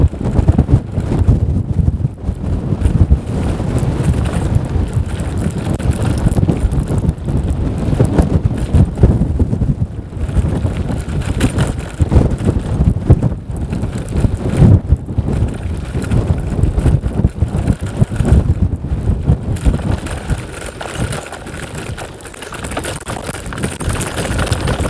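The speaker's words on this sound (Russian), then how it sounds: "ветер одолевает." Strong wind buffets the microphone during a bicycle ride toward a town on a rough road, a loud, continuous low roar with gusty surges throughout and no talk.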